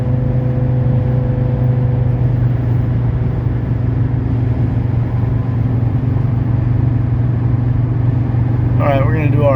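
A 1982 Mercedes 300SD diesel cruises on the highway at about 3,200 rpm, a steady low engine drone with road and wind noise throughout, heard from inside the cabin, and a voice talks near the end.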